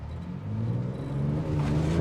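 A Ford Ranger Raptor with a 400 hp engine revs hard while driving across Namibian desert sand, a loud, steady engine drone climbing in pitch under a constant low rumble.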